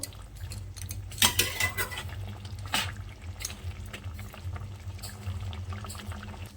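Chilli chicken thickened with arrowroot is stirred together in a pan, with wet sloshing and clinks of a utensil against the pan, loudest in a few bursts early on and then settling into softer mixing.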